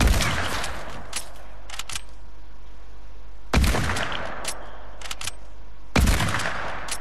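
Three loud, sharp gunshot bursts in a video game 1v1 match, each a hard crack followed by a short tail and a few smaller pops, spaced a few seconds apart over a quiet background.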